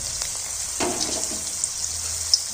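Potato balls deep-fry in hot oil over a medium flame, giving a steady, close hiss of bubbling oil that runs through the whole stretch without pause or voices.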